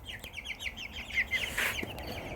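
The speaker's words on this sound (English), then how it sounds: "I gotta get these chicks outside. They're causing a ruckus in here, tipping over their water." Young chicks in an indoor brooder cheep in quick, high chirps, a small flock peeping faintly but busily with no talk over them.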